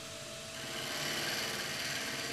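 Steady broadband scraping of a shear-scraping tool on a spinning resin and timber offcut bowl on a wood lathe, a continuous close hiss with motor hum underneath, no talk.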